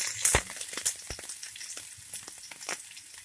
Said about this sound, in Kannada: ಈರುಳ್ಳಿ ಕಂದು ಬಣ್ಣ ಬರಬೇಕು. ಅಲ್ಲಿ ಗಂಟ ಫ್ರೈ ಮಾಡ್ಕೊಬೇಕು.